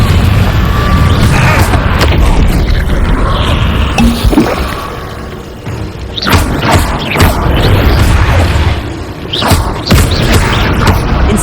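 A Confringo spell explosion in Hogwarts Legacy: loud, dense booming blasts and crashing impacts fill the scene continuously, with brief dips between heavy bursts.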